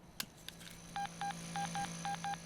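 Six evenly spaced touch-tone beeps sound as a telephone number is dialed, faint and clean after a few soft clicks, each tone short and crisp with brief gaps between.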